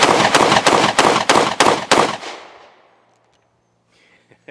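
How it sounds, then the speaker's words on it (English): An Alpha Foxtrot S15 1911 pistol fires about eight loud, close shots in a fast, even string lasting roughly two seconds, followed by quiet with a few faint clicks. "There ain't nothing like shooting a 1911."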